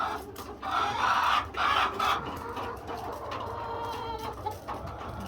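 Hens cluck in a henhouse as they walk over eggs, a busy layered chorus of close clucks and squawks with a steady rustling background.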